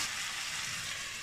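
Chopped tomatoes hit a hot pan for an aloo matar sabji, giving a steady, dense sizzle that stays loud and even throughout with no voices.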